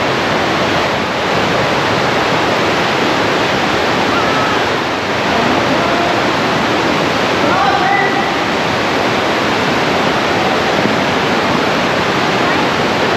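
Waterfall in the Partnach Gorge, water dropping from above in a loud, continuous broadband roar that fills the whole scene, close and steady, with faint voices of crowds barely under it.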